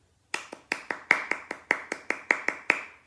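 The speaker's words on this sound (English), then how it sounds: "Let's clap it and say the counts at the same time." A tap dance class claps a steady rhythm together, about eleven sharp, evenly spaced handclaps in quick succession, close and clear with no talking over them.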